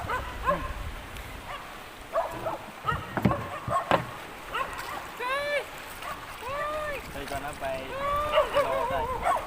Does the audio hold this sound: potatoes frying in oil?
no